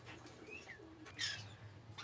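Pet lovebirds, cockatiels and conures in a cage give soft coos and thin chirps, fairly faint against a low steady hum, with one brighter burst of calls midway.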